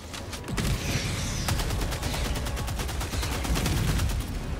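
Rapid, sustained fire from the BR-14 Adjudicator rifle in Helldivers 2 against bugs, a close, loud stream of evenly spaced shots running almost without pause amid dense combat noise.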